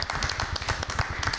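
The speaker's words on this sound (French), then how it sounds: "Bonne main d'applaudissements." Brief clapping from a small group at a municipal council meeting, a quick patter of hand claps close to the microphone.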